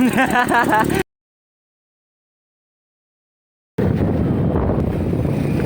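Strong wind buffets the microphone in a rough, continuous roar, cut by a stretch of total silence before the gusting noise returns.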